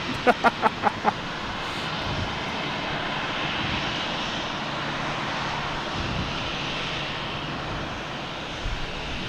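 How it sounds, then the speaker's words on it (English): A JetBlue jet airliner takes off at Boston Logan, its engines giving a loud, steady roar that holds for the whole stretch, with a few sharp clicks at the start. "We got JetBlue taking off on 22 right"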